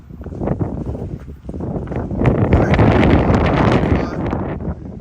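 Strong gusty wind roars steadily across the microphone on a cold mountain peak, rising and buffeting throughout with no voices, a rough continuous rush.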